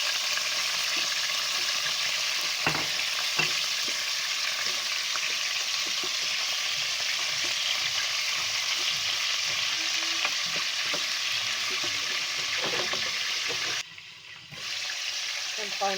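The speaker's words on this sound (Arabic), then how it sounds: "كنبقاو نقليوه" Chicken pieces frying for kabsa while being stirred in the pan: continuous close sizzling with scattered utensil scrapes and clinks, briefly dipping near the end.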